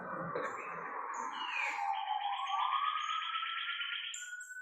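A distant siren wails with a slow rising sweep that holds a steady pitch, faint against a quiet background with a few light bird-like chirps.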